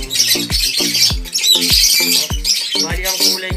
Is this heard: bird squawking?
yes